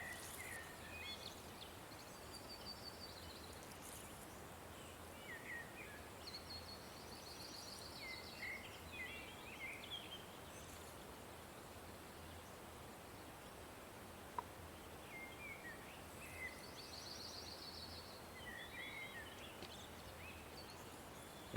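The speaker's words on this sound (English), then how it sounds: "There's a lot of bird calls in the background," Faint bird calls repeat every few seconds over a soft, steady hiss in the lake ambience of the fishing game Russian Fishing 4.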